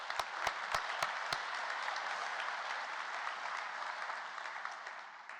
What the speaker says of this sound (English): A special round of applause for them.